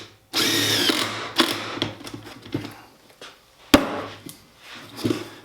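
A drill drives 2.5-inch screws into a wood block for a half-lap joint on a raised planter bed. Close, loud motor whirs come in short bursts, broken by sharp knocks and pauses, with no talk.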